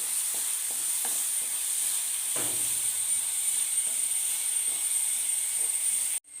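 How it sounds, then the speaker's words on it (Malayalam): Sliced onions sauté in hot oil, a soft continuous hiss and sizzle with a few light scrapes and taps of stirring, ending abruptly. "സവാളയൊക്കെ വഴറ്റി മൂത്ത് വരണം"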